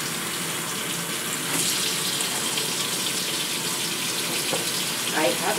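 Wild salad greens are swished and washed in a basin of water, giving close, continuous splashing and trickling with a few sharper sloshes toward the end.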